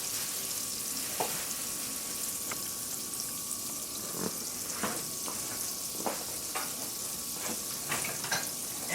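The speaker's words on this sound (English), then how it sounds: "I'm going to melt my butter, vegan butter, and I'm going to make a basic white sauce" Vegan butter melting in a pan over medium-low heat for a white sauce, a soft, even sizzle with occasional sharper pops and utensil clicks, fairly quiet and without talk.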